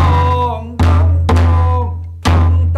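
Korean janggu drum played in the noraetgarak rhythm for Gyeonggi folk song accompaniment, three loud resonant strokes with ringing decay, played alone.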